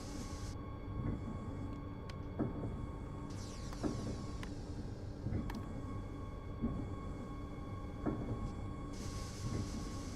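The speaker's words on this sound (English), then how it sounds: "I can't even fucking stop this train." Train running on the Tharandter Rampe in the Train Sim video game, a continuous low rumble with rhythmic wheel clatter and occasional sharp squeals and tones, no talk.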